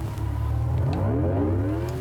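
A simulated electric car drive sound, triggered by a converted accelerator pedal, rises as a smooth whining tone that climbs in pitch over a low steady hum, with no talk.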